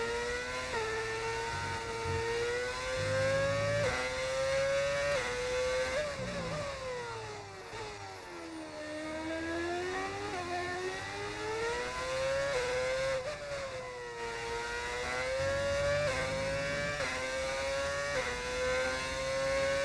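F1 race car engines in a racing video game at Belgium, a high whining roar rising and falling through gear shifts as cars pass, loud and continuous with no talk.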